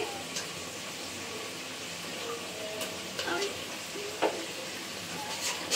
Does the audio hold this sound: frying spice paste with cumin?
yes